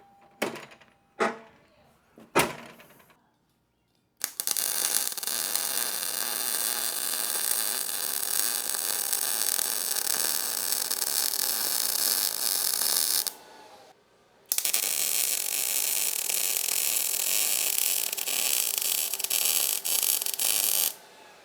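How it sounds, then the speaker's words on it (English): MIG welding a center hoop onto a steel front bumper for a 4th gen Toyota 4Runner: a steady crackling buzz runs loud and close for about nine seconds, breaks briefly, then resumes after a few short clanks at the start. "So I'm just gonna go ahead and weld this, tack this on here."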